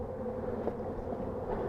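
Honey bees buzz in an opened hive during an inspection, a soft, steady hum with a low drone that holds throughout and swells slightly now and then.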